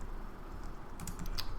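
Keystrokes on a computer keyboard entering a date range, a soft cluster of quick taps arriving near the end after a quiet stretch of room tone, with no talking.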